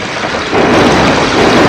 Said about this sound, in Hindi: घनघोर बारिश करने लगे